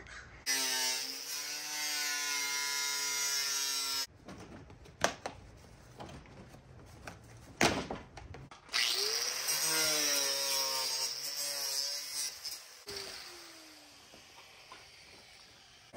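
A power tool cutting through a Toyota Tacoma bumper, a loud close whining cut that drops out briefly, with clanks between, then resumes with a rising and falling pitch.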